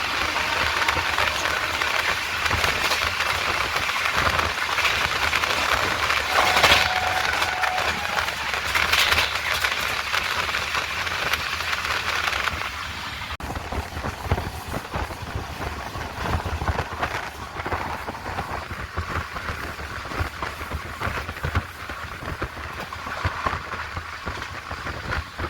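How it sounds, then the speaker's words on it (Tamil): West Coast Express train running at about 130 km/h, a steady broadband roar and rattle heard from inside the coach, loud and continuous, dropping slightly in level partway through. "நம்ம ட்ரெயின் பார்த்தீங்கன்னா 130 போட்டு தாக்குதுங்க"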